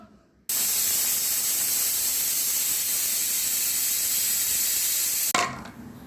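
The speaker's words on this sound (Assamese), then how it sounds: "তাৰপিছত মই 2টা চিটি মাৰিবলৈ দিম।" A pressure cooker holding egg biryani vents steam in one loud, steady hiss that starts abruptly, holds for about five seconds, then cuts off sharply, with no talking.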